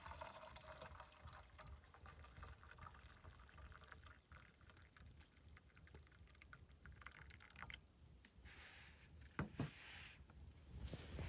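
Water being poured into a breakfast pot at a winter campsite, a quiet continuous pouring and trickling with a few drips, faint and close, no voices.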